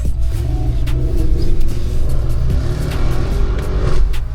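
Engine of a Mercedes GLE SUV while driving, a steady loud low rumble with a slight rise in revs, heard from inside the cabin with no talk.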